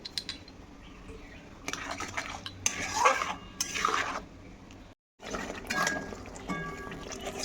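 Ground spice paste, turmeric, salt and sugar are stirred and scraped in hot oil in a pan for a chhana (paneer) curry. Irregular metallic scraping bursts rise over a low frying hiss, with a brief silent break midway.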